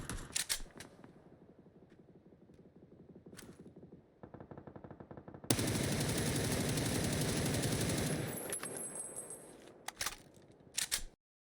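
Automatic gunfire in PUBG on a console shooting range during recoil testing: a short quieter burst of rapid shots, then a long, loud, sustained burst ending in a few clicks and clinks.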